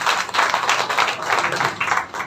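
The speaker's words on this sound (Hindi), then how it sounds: "सर के लिए तालियां बजा दो एक बार" An audience at a network-marketing training session applauding a speaker: dense, even clapping from many hands, fairly loud and close, lasting a couple of seconds.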